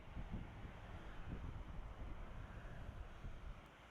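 A breezy outdoor wind gusts against the microphone in low, rumbling buffets, steady and fairly close, with no voices over it.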